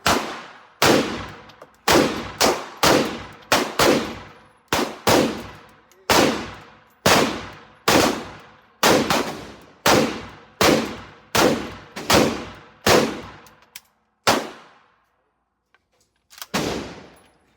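AK rifle firing 7.62 rounds at a shooting range: loud, sharp, close shots fired one at a time, about fifteen in quick steady succession roughly a second apart, then a brief silence before one last shot.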